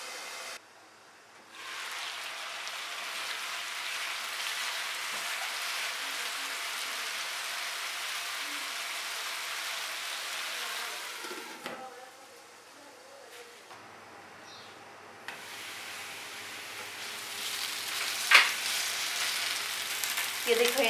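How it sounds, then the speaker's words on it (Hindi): Potatoes and vegetables frying under a lid in a pan, a soft steady sizzle like light rain that drops briefly midway then resumes, with a few faint clinks and no talking. "इनको मैं कवर करके फ्राई करूंगी ताकि इन पे लाइट सा कलर भी आ जाए"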